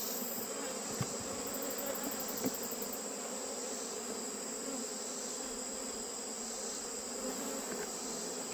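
A dense, steady buzz of many honeybees droning together around a hive, with a constant high whine throughout and no voices.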